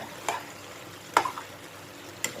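Eggplant with pork stir-fried in a small pan on a gas stove: a soft steady sizzle with three sharp spatula scrapes and clacks spaced about a second apart.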